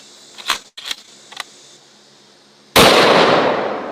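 A .416 Rigby rifle fires a single loud shot that booms and rolls away outdoors, preceded by a few quiet mechanical clicks of handling.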